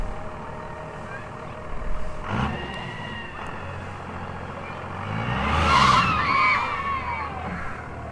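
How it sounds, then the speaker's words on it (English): A car does its first burnout, with engine revving and a drawn-out tire screech that swells in the middle and then fades. A brief rough burst comes earlier, over steady background rumble. "That was the first burnout of my car."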